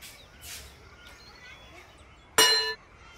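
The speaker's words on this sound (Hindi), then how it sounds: "चलो अभी घंटी बजाओ" A single bright metallic clang of a school bell rings once near the end, loud and close, ringing briefly before cutting off after quiet background sounds.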